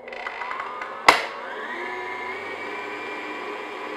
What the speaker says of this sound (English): Now I'm just gonna put on my paddle attachment and just mix that.